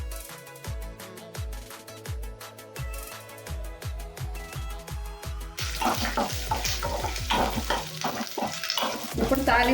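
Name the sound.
tempering with curry leaves frying and being stirred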